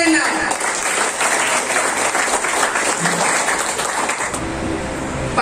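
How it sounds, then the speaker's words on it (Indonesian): An audience at a company testimonial and awards event in Tangerang breaks into sustained, even applause, many hands clapping loudly and continuously with a few faint voices mixed in. "Tepuk tangan buat Pak Jainal."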